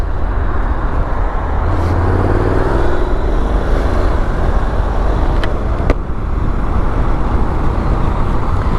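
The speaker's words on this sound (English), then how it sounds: "It's such a nice bike to ride. It's just so effortless and smooth" Honda NC 750 X motorcycle riding along a UK road, a loud steady engine drone mixed with broad wind and road rush that holds constant throughout, with no talking.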